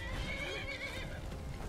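A horse in the video game Skyrim gives a sharp, close whinny that rises and falls, with soft hoof clops beneath it, over a quiet game background.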